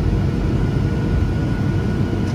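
Steady loud low-frequency engine roar inside an airplane cabin during a commercial flight, a continuous drone with no talking.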